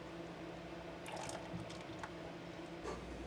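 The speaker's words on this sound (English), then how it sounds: "it just started getting thick and boiling, so I'm pouring over my chips and butter." Hot, thick boiling mixture poured over chocolate chips and butter for low-carb pudding pops, giving soft, faint squishy liquid splats and drips close by with no talk.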